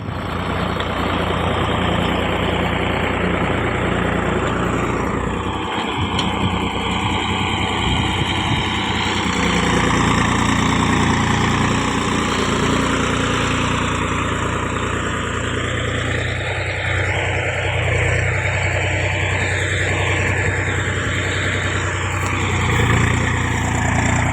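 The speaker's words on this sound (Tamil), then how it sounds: "உழவு கூப்பிட்டுருக்காங்க ரொட்டேட்டர் ஓட்டி கொடுத்துட்ருக்கோமுங்க" Tractor working a rotavator tiller through a field near Appachi Kulam, Alampatti, a steady loud diesel drone with churning rumble that rises and falls slightly as it moves, running continuously with no talk.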